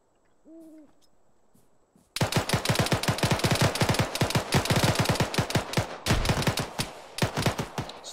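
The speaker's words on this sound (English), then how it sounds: "Still more shots up there, let's keep moving." Rapid, sustained automatic gunfire in the video game ArmA 3, loud and dense bursts of shots after a quiet opening with a faint low hoot-like tone.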